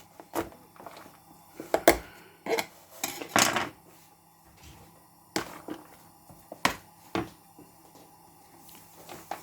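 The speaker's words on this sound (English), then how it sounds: "So we have spinach going in there. Give that a good mix." Irregular wet squishes and clinks as spinach is mixed by hand into a pakora batter in a bowl, close, with scattered sharp knocks and quiet gaps.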